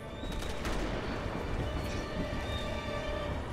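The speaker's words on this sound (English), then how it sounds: "Gotta shoot the barrel." Gunfire at an explosive barrel in the Resident Evil 6 video game, a rapid cluster of sharp shots near the start followed by a steady, dense wash of game noise.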